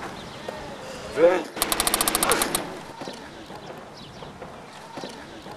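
During a children's pretend shootout, a voice imitates a burst of gunfire: a rapid, loud rattle of about a dozen quick shots lasting around a second, with talking before and after.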